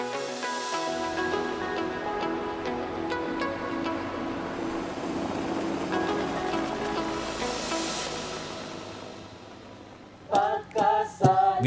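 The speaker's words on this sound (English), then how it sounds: "As the island became visible, we positioned ourselves for landing." Light aircraft descending to land on an island, a steady droning engine and wind roar filling most of the stretch before fading, followed by a few loud brief sounds near the end.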